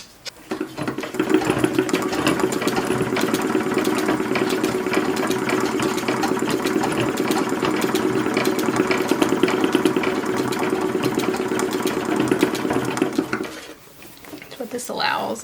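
A sewing machine runs steadily, stitching along the seam of an 1880s late bustle skirt from the inside; the even mechanical whir holds for about thirteen seconds, then stops, and a few handling noises follow.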